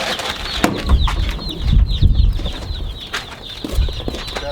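Baby chicks in a barn give a run of high, thin peeping chirps over shuffling and low bumping handling noise nearby.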